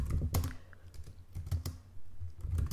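Someone types a message on a computer keyboard, with irregular clusters of close, crisp key clicks and short pauses between them.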